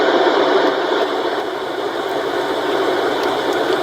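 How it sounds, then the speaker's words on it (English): Steady, even whooshing hum of an exhaust fan setting on an OnLyee sound machine, constant and fairly loud with no breaks or changes in pitch. "So that's some of the exhaust fans."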